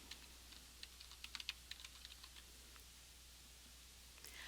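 Computer keyboard keys tapped in a quick irregular burst of light clicks, with a couple more keystrokes near the end, close and quiet over a faint steady hum.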